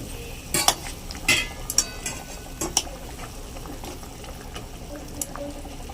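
Pabda fish slipping into a pan of simmering curry sauce for a fish jhal, heard as a few soft wet splashes and clinks close by over a low steady bubbling.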